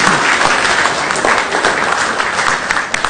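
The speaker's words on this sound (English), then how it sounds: "Another round of applause for them" Loud, dense applause from a city council meeting audience, steady clapping filling the room for a few seconds.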